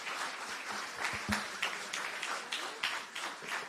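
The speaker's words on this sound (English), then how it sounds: "And a clap for yourself also." Audience applause at a live management seminar, a steady wash of many hands clapping with a few louder bursts, moderately distant and sustained throughout.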